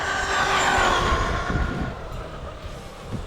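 An Arrma Granite 4x4 3S BLX brushless RC car runs at full throttle, giving a loud, steady electric whine over a rough rumbling roar that eases slightly as the run goes on, with no talking.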